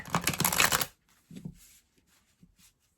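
Tarot cards being shuffled close up, a dense burst of riffling for about a second, then a few softer taps and slides as the deck is squared.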